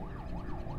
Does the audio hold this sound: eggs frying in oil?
no